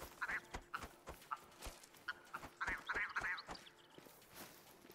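Willow ptarmigan in the hunting game theHunter: Call of the Wild give a series of rough, nasal, duck-like croaking calls, several bursts clustered over a few seconds amid faint clicks, moderately close with no talking.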